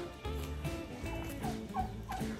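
Turkeys gobbling in a pen on a rural farm, several overlapping throaty gobbles rolling close and loud in repeated bursts, with no talk over them.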